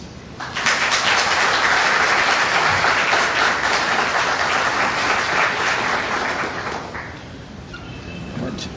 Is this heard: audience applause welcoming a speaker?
yes